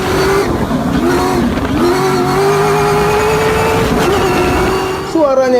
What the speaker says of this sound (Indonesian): Kemudian berteriaklah mesin V8-nya.